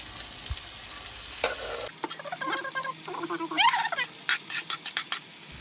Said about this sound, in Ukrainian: я підготувала сковороду і поклала туди шматочок сала для того, щоб витопити жир